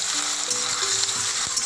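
Boiled potatoes frying in hot oil over a cumin tempering, a steady close broadband sizzle with a few faint clinks and no talking.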